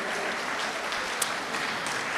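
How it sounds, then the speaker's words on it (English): An audience at a healthy aging afternoon session applauds a presenter, with brisk, continuous clapping from a roomful of people heard up close throughout. "Let's give another round of applause to Terry."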